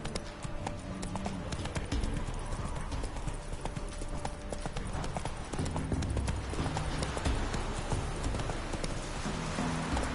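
Roach, Geralt's horse in The Witcher 3, gallops in a steady drumming clip-clop of hooves that runs without a break, loud and close, over a dense, wide game ambience.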